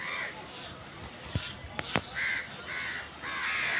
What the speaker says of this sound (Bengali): কাকগুলো ভয়ে গাছের মগ ডালে পাতার ফাঁকে এমনভাবে লুকিয়ে আছে ভয়ে